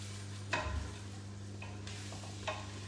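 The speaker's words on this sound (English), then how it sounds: "I'm probably going to use a wooden spoon just so the plastic doesn't melt. Give that a bit of a mix." A wooden spoon stirs chilli in a pot over a soft, steady simmering sizzle, with a few quiet scraping strokes spread across the moment and no talking.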